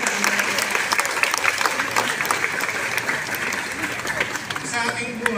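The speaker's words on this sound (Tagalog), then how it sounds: "Palakpak natin" An audience at a high school recognition ceremony claps for the teachers, sustained dense applause with scattered sharp claps and some voices in the crowd.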